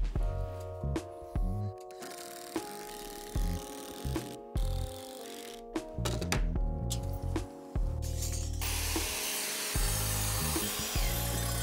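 A power saw cuts through OSB roof sheeting boards laid over rafters, a steady loud buzzing grind that stops and restarts in repeated passes, with a harsher whine toward the end.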